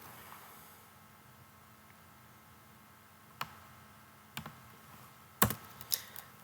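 Computer keyboard being typed on during a text-file programming lesson, faint background hum with a few sharp clicks and a louder cluster of key presses near the end, close by.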